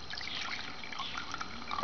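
Distilled vinegar, about half a cup, poured into a container for cleaning copper Prius battery links; a soft, thin trickle of liquid lasting under two seconds, faint and close, no voices.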